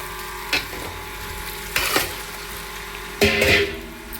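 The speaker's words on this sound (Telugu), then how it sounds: "చక్కగా ఉల్లిపాయ ముక్కలు పచ్చిమిరకాయ ముక్కలు చికెన్ ముక్కలు మొత్తం కలిసేటట్టుగా మనం తిప్పుకున్నాం" Chicken pieces with onion and green chili being stirred in a hot pan, giving three distinct scraping stirs over a steady frying sizzle, close and clear with no talking.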